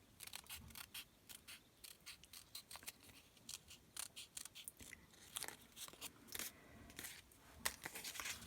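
Scissors snip through paper in a quiet craft setting, a run of close, crisp cuts that come in irregular bursts with short pauses, with no talking.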